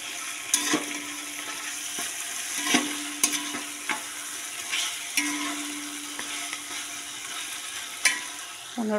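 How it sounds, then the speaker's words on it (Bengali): Meat being stirred as it fries for biryani, a steady sizzle under repeated scraping strokes of a spoon against the pan, with a few sharper clinks, close and alone. "বেশ আমি এখন 15 মিনিট ভালো করে মাংসটাকে একটু বেশ নাড়বো।"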